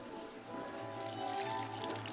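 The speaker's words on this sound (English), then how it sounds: "A half a cup of water." Half a cup of water is poured into a container of cabbage being prepared for fermentation, a soft, steady trickle heard faintly and close by for about two seconds.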